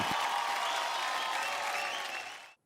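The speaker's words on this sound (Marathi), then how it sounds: "जोरदार टाळ्यांनी स्वागत करूया" Loud, dense clapping from a studio audience on a Marathi television show carries through most of the moment, then tapers and cuts off abruptly near the end.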